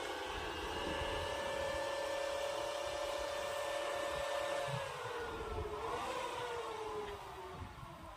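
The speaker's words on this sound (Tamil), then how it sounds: "அதனால் நம்ம இன்வெர்ட்டர் ஆன் பண்ணிக்கலாம்." An inverter at a solar power plant hums steadily after being switched on, a sustained electrical whine with tones that shift and drop partway through, over a low background rumble.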